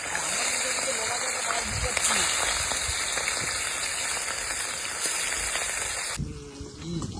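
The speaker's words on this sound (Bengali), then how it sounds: "এখন কড়াইতে হলুদ ছাড়া মাছ।" Fish fries in a wok in an outdoor picnic setting in the Sundarbans, giving a steady loud sizzle and hiss that cuts off near the end, with faint background voices.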